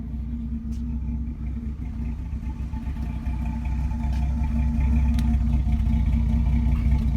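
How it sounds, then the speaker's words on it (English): A 1983 Buick Regal Wagon's engine idles warm with a steady, low rumbling exhaust note, slightly uneven, continuous throughout with no voices. "to give you a little better idea of the exhaust note"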